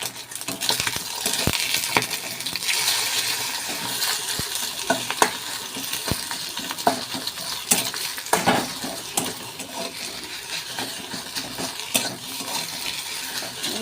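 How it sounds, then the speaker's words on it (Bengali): Small egg pieces fry in white oil in a kadai, giving a steady sizzle broken by sharp clicks and scrapes of a spatula stirring against the pan, with no talking. "এবার ডিমটা দিয়ে দেবো, ডিমটাকে ছোট ছোট টুকরো করে ভেজে নেব।"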